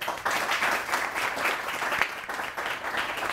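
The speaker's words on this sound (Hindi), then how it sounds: "इनको तालियां पहले।" A studio audience applauding steadily, a full, dense wash of many hands clapping at even loudness throughout.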